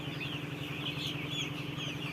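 Several young broiler chickens cluck softly and continuously in a rearing shed, a low, steady flock murmur close by with no talking.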